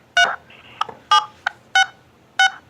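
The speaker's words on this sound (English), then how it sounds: "Why does it sound like you're punching those numbers into your phone?" Phone keypad tones ring out as numbers are dialed: five short, loud beeps in an uneven rhythm, each sharp and close, with quiet between them and no voices.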